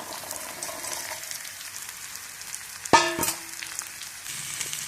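Baby bitter gourd and shallots sauté in a pan for poriyal, giving a low, steady sizzle broken by a single sharp utensil clatter midway before the quiet frying resumes.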